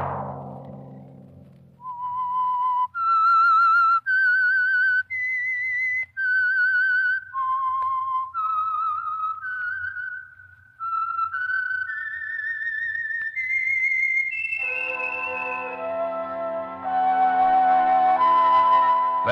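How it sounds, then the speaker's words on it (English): A clear whistled melody of distinct, sustained notes rises and falls in sequence as a radio program theme, joined near the end by fuller musical tones underneath. "Let that whistle be your signal for the Signal Oil program"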